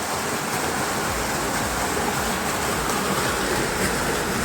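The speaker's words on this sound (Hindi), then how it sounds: "Look at this waterfall" Steady, dense roar of the Trap Waterfall in India, a continuous broadband rush of falling water close by, loud and unbroken with no talking.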